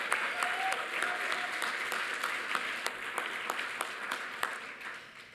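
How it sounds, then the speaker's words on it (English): An audience at an employee awards evening applauds the Master of Ceremonies, sustained even clapping that slowly thins toward the end, with a few sharper individual claps standing out. "I think we can give our Master of Ceremonies a round of applause."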